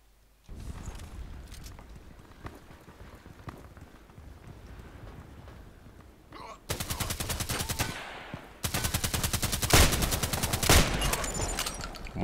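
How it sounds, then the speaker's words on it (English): An IZH-43 shotgun fires in a shooter video game, loud sharp blasts arriving in bursts and clusters over a busy game soundscape, with a heavy barrage of shots dominating the second half. "Kill 10 enemies with IZH-43 shotgun"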